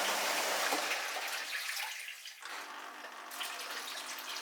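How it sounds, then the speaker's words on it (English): A Dyson Contrarotator CR01 washing machine pump drains water during an 85 degree cottons wash, a steady rushing, gurgling flow that pauses briefly and then resumes, close and fairly loud. "The pump paused there, now it's pumping again."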